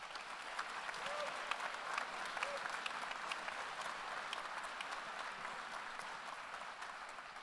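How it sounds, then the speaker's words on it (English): Sustained audience applause at a California governor candidate forum, many hands clapping evenly in a large room, with faint crowd murmur beneath. "And now you may clap."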